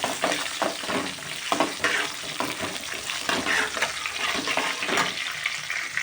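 Curry leaves crackle and spit in hot oil with a dense, busy sizzle, close and fairly loud, along with irregular stirring scrapes for several seconds and no voices.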